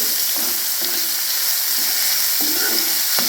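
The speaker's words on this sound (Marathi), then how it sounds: "आपण त्याच्यामध्ये कांदा घालून घेऊया बारीक चिरलेला कांद्याला असं लालसर असं भाजून घ्यायचे" Finely chopped onion fries in a pan with a loud, continuous sizzle, punctuated every second or so by quick scraping stirs.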